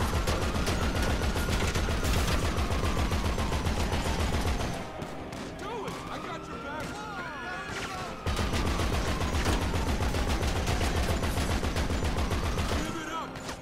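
Half-track turret in GTA 5 Online firing rapid, loud machine-gun bursts: a long sustained stream, a short pause with other noise, then another long burst, with whining engine or aircraft tones sweeping through.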